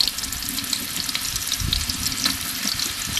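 Onion frying in hot oil in a cooking pot, a steady close sizzle and crackle with small bursts of spattering, with no voices.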